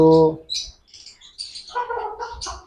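Bird chirps and tweets from several birds, including yellow-sided conures, in a shop, with a voice speaking over them at the start and busy chatter throughout.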